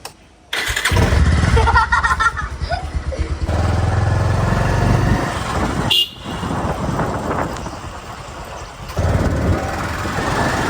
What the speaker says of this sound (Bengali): আমরা এখন বাইক চালাতে যাচ্ছি